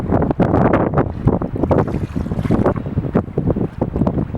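Strong wind buffets the microphone in continuous heavy gusts at Hasse Fen fishing lake, a loud rumbling roar with no voices, like outdoors on open water.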